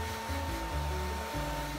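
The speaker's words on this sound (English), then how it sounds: "let's get this blow dryer out." Blow dryer in the Hairdresser Simulator video game, a loud steady whirring drone with a shifting motor pitch, continuous and close throughout with no voices.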